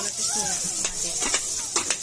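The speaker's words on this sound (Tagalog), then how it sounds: "At yun na nga, ginisa ko na yung bawang sibuyas." Soft sizzling of garlic and onion sautéing in a pan with a few stirring scrapes, quiet and close, a brief stretch of cooking sounds.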